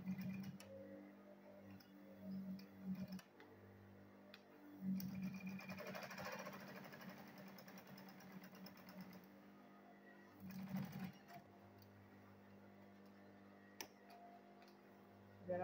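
A sewing machine stitching handbag fabric, steady low mechanical whirring in runs with short pauses and ticks between, quiet and close, no talk.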